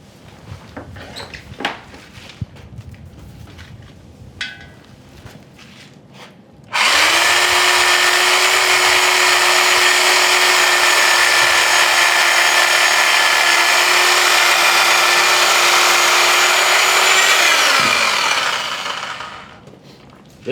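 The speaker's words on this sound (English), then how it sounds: "this is where we're going to hope that the Sawzall comes through for us real nice" A Sawzall reciprocating saw cuts through a deer carcass during butchering, starting abruptly and running loud and steady with a constant motor whine and rasping blade for about eleven seconds before winding down; quiet handling noises come before it.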